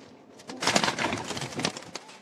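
Pigeons of Raja Jamil's number 8 breed, flying near a loft, give a few soft fluttering, rustling bursts close by over two seconds, with no one talking.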